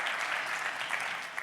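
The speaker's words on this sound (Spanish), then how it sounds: "Le damos un aplauso al Señor" A church congregation claps steadily in praise, dense and fairly faint, as a continuous wash of hands.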